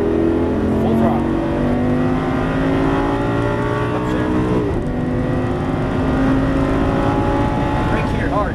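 A Lamborghini Superleggera on a racetrack accelerates hard at full throttle, its engine note climbing steadily with a brief dip for a shift midway, loud and close, under someone talking.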